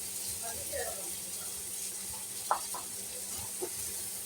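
Soaked flattened rice (chira) frying in a pan, a steady soft sizzling hiss with a few light clinks of stirring, faint and close.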